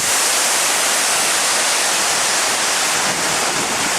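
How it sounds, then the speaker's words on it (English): Steady, full rushing roar of Skookum Falls, a horsetail-type waterfall on Skookum Creek, a dense continuous hiss without pauses. "Skookum Falls flows from Skookum Creek. It's known as a horsetail type falls."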